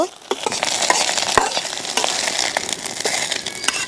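An egg fries in hot oil in a wok, giving a continuous bright sizzle and crackle with scattered sharp pops and stirring scrapes, close and loud, with no talking.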